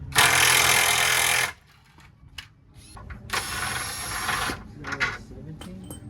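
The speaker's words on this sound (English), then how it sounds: "grab an impact and let's get those long bolts off" Impact wrench removing long bolts from a wagon's cross member, two loud close bursts of rattling hammering, the second longer and rougher, followed by clinks and handling noises.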